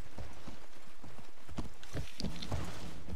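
Hooves clip-clop from an armored horse charging into battle in Mount & Blade: Warband (Floris Expanded mod), a busy galloping patter of strikes over game ambience with no talk.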